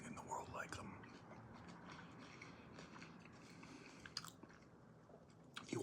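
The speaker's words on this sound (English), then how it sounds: "let's finish this hash brown right here, because my goodness, I'm tearing through these hash browns" Close, soft chewing and biting of a McDonald's hash brown, crisp crunches and wet mastication running steadily throughout, with quiet whispered talk woven in between bites.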